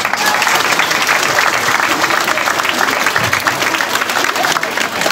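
Loud, dense applause from a crowd of middle-school students meeting sports champions in Charny, a continuous wash of clapping that holds steady throughout.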